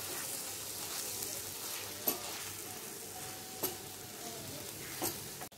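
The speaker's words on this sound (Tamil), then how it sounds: "இதை நல்லா எண்ணெயிலேயே வதக்கி விடுங்க." Dried fish gravy with spice powders sautéing in hot oil, a steady soft sizzle throughout with a few sharp clicks of stirring against the pan.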